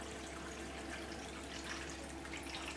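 Water from a Topsflo solar pump pours steadily back into a tank, a continuous close splashing rush with no pauses or voices.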